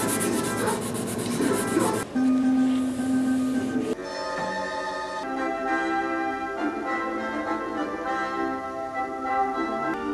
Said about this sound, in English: now I'm going to sand it up to steel wool so I can start putting some oil on it.